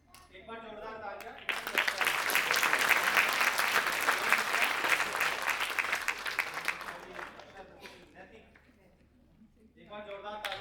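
An audience claps at a Hindi awards ceremony in Delhi, a dense, sustained wash of applause building from a brief spoken opening, peaking mid-clip, then tapering off as a voice resumes speaking.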